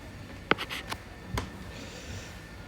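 Pen scratching across a surface while drawing a curve, a few short faint strokes and taps close by in a quiet room.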